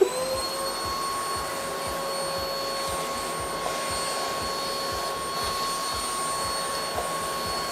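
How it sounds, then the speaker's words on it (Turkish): An electric vacuum cleaner runs continuously nearby, a steady loud whine with high tonal hums over a rapid low pulsing. The noise holds constant throughout with no talking. "Elektrik süpürgesini çıkaracağım şimdi"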